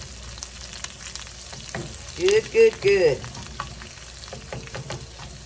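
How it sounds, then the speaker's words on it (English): Onions frying and caramelizing in hot bacon grease for holiday green beans, a steady crackling sizzle with stirring throughout, while someone briefly speaks over it. "I want them onions to caramelize in there"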